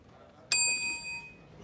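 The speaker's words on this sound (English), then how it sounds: "Princess Ding Dong, do not hit that bell" A quiz show buzzer bell gives one sharp bright ding that rings on with a sustained tone for nearly a second, then fades under a quiet room background.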